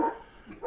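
A dog next door barks twice in quick succession, sharp and moderately loud, as if heard from a short distance away.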